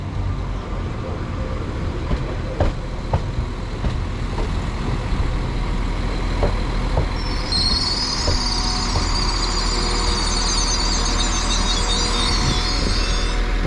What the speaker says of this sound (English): arriving in now is the slightly delayed 1412 northern service from York to Blackpool North